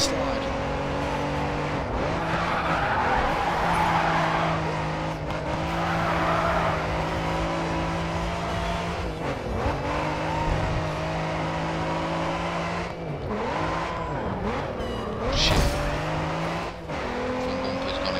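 A car slides and drifts through tight corners in the racing video game GRID 2, its engine droning loudly with shifting pitch and tires squealing intermittently. A person talks over it.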